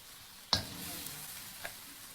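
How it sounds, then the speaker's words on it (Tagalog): Vegetables for pinakbet hit a hot pan holding fried tilapia and milkfish, setting off a sharp hiss that settles into a soft, steady sizzle, with a small clink later. "Ilalagay ko na ang aking gulay."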